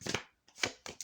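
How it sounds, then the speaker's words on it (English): Playing cards being shuffled in several quick riffling bursts with brief pauses between them, close and fairly quiet, with no talk. "getting cards to shuffle."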